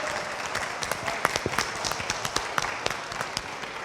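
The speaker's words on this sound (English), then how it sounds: "Please, round of applause." A round of applause from a convention audience after a tin whistle duo's set on a main stage, a moderate crowd clapping with distinct individual claps standing out for a few seconds.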